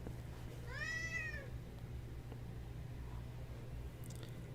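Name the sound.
cat meowing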